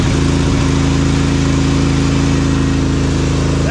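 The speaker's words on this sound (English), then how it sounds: "I'm gonna let it warm up for a bit." A 24-year-old machine's engine idles steadily in neutral while warming up, a loud, even, continuous rumble heard alone without talk.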